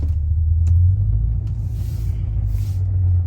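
Pontiac GTO V8 with a failed transmission revs hard while stuck in reverse, a loud, steady deep engine rumble held throughout with slight swells, close up and without talk.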